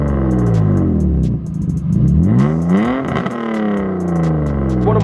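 Engine-swapped BMW E36 fitted with a large Japanese engine revs hard through a big exhaust, with rising and falling sweeps of loud, close engine note and sharp crackles over the top.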